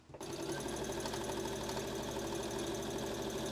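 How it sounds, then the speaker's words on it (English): Sewing machine stitching a 5mm seam on a skirt, a steady rapid mechanical whirring and chattering that starts abruptly and runs evenly, close and fairly quiet, with no talking. "I'm going to sew a 5mm or a 1/4 inch seam down here."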